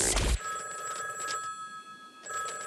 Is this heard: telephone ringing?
yes